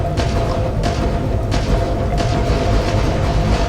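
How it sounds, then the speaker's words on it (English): Rapid auto cannons firing in Starfield space combat, heavy booming bursts repeating at short regular intervals over a loud, continuous rumbling engine and battle din, with no voices. "the auto cannons are so deadly"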